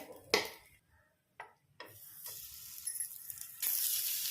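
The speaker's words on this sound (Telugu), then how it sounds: "అన్నీ కూడా ఇలానే ఫ్రై చేసుకోవాలి" Fish frying in a pan on a stove, with intermittent clinks and scrapes of a utensil against the pan over a faint sizzle, building to a brighter steady sizzle at the end.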